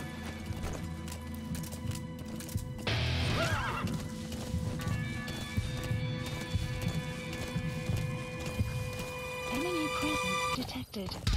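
A horse whinnies loudly while hooves gallop in a fast rhythm, all set against steady music, with a short snort near the end, from the video game Metal Gear Solid V: The Phantom Pain.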